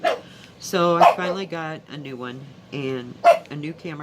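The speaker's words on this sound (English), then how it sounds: "Sorry about my dog Molly." Molly, a pet dog, lets out several sharp barks in short bursts, fairly close and loud, mixed in with a person talking indoors.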